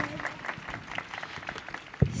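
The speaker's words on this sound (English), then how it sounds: "A round of applause." Applause from the audience at a children's town hall, a short burst of scattered clapping that peaks in a louder clap at the end.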